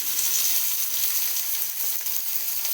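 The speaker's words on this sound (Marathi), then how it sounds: "जिरे मोहरी घातले हिंग घालायचा आणि मिरच्यासुद्धा घालून घ्यायच्या" Cumin, mustard seeds, asafoetida and green chillies sizzle steadily in hot oil for a dhokla tempering, a close, continuous bright crackle and hiss with no voices.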